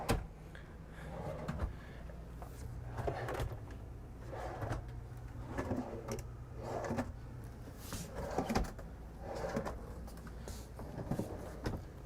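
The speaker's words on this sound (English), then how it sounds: "6 really big drawers here, dovetail construction, all quiet closed drawers." Quiet-close dovetail drawers in a Newmar Mountain Aire motorhome slide and shut repeatedly, a series of soft thumps and gliding rumbles at close range, with no talking.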